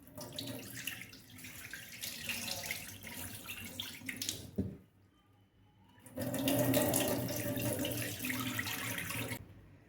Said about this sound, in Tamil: இந்த தண்ணியை கீழே ஊற்றிடணும்